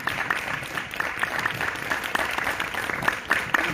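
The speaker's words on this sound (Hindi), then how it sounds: "तालियां जोरदार, जोरदार, जोरदार" Applause from a yoga class group, dense and steady with a few sharper individual claps standing out near the listener, running the full length with no break.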